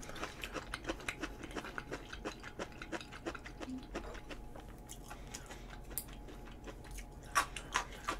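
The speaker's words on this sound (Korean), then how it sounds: "역시 아스파라거스 씹는 맛이 좋아요" Asparagus with tomato and sesame dressing being chewed close to the mic, a run of sharp wet crunches and bites repeating irregularly over a quiet background.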